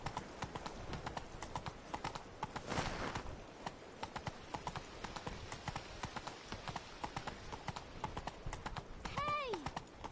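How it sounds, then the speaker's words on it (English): Horse hooves clip-clop at a steady gait while being ridden, close and continuous, with rider calls and a brief whinny-like cry near the end. "Giddy up."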